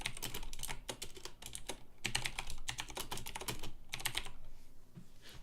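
Computer keyboard typing out programming code, with rapid close clicking keystrokes in uneven bursts and short pauses, crisp and fairly loud, with no voices.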